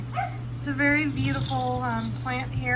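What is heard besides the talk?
dogs barking outside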